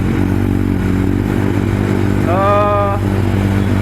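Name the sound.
Kawasaki motorcycle engine running on stock exhaust, cold start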